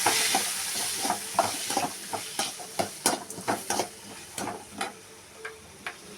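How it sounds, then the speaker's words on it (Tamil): Tomatoes and onion sauté in oil in a pan after mustard seeds have spluttered, giving a steady close sizzle broken by repeated sharp ladle taps and scraping strokes, with no talking. "கடுகு பொரிஞ்சோடனே மூணு தக்காளி பழம் ஒரு வெங்காயம் அதையும் போட்டு நல்லா வதக்கி விடணும்"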